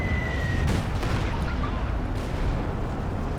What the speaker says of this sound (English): You also hear Ju-87 dive bomb.